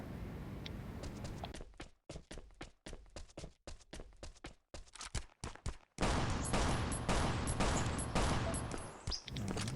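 Pistol shots in Last Island of Survival ring out in a rapid, irregular string of sharp cracks, close and loud, followed by a denser burst of gunfire with footsteps mixed in.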